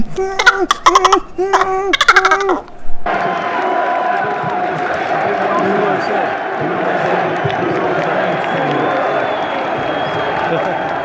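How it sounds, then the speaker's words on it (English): An esports arena crowd at MLG Columbus cheers loudly and steadily during a CLG versus Liquid match, after a few seconds of close talking at the start. "the crowd was so hyped, it was so intense"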